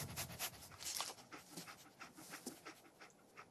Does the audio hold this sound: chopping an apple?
no